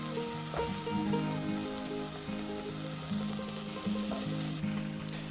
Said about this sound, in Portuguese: Então a gente dá essa refogadinha nesse pimentão e vai incorporando